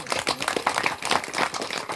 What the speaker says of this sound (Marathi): त्यांच्याबद्दल एकदा टाळ्या